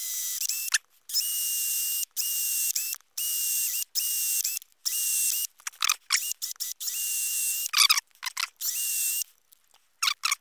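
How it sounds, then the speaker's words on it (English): A drill bores holes into the wood of a Squier Classic Vibe Telecaster guitar body, in loud, close high whining bursts of about a second each, with short pauses and quicker stuttering bursts near the end. "chisel that wood out by using a drill to make some holes"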